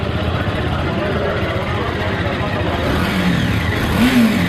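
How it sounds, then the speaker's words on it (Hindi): A BMW G310 RR motorcycle's exhaust rumbles loudly up close, idling steadily and then blipping into short revs toward the end. "और अभी मैं आपको इसके एग्जॉस्ट के साउंड को चेकआउट करा देता हूँ"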